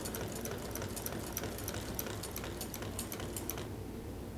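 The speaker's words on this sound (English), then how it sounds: "It's always a good idea to hold your threads back as you start to sew." A Consew 206RB1 industrial walking foot sewing machine stitches at a steady pace, a fast rhythmic ticking and clatter close up and fairly quiet, stopping just before the end.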